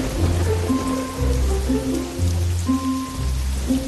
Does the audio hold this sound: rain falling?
yes